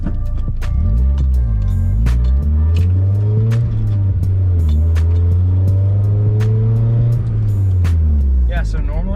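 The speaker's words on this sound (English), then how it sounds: "normally a launch like that, I would spin the rear tires when it was on winter tires" A Mazda Miata on upgraded wheels, tires and coilovers launches from a standstill, its engine revving loudly and close, rising and falling through gear changes before settling into a sustained pull.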